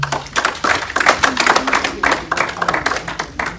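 A church congregation claps to acclaim the Lord, with quick, close rhythmic hand claps forming steady bursts of applause, loud and lively throughout, with a faint tone underneath.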